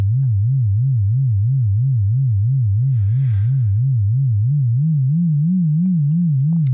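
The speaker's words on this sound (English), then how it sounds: "Now you're able to hear a wobbling, shifting frequency." An FM synthesis tone in Max, a low sine-like pitch wobbling up and down at a steady fast rate, continuous and alone, shifting slightly higher near the end, with a faint brief noise in the middle.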